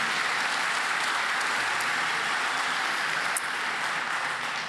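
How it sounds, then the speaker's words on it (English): A conference audience at a PHP developer event applauds steadily, a dense even wash of clapping from the room with no talk. "Oh, a big applause."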